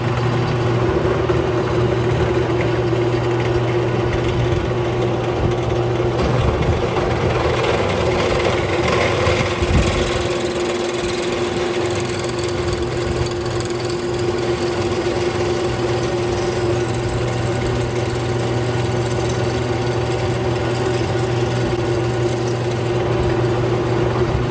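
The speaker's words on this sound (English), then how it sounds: "the speed of the drill is on 1260, a little slow but good" A drill press running at 1260 rpm bores into an 8.8 axle part for a Range Industries Explorer electric brake kit, a steady whining hum with grinding scrapes and a brief bite midway, continuous and close.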